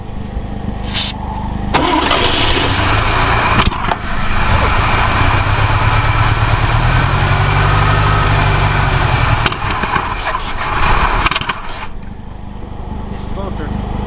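A 1960 Ford Falcon Ranchero engine, run after sitting 20 years, cranks and then runs rough with the throttle feathered, a loud close continuous drone that surges and dips as people talk over it.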